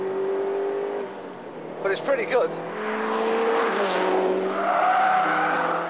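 A Litchfield Type 25 car accelerates hard in 4th gear from 3,000 revs, its engine note rising steadily and growing louder up close, with a brief spoken remark midway.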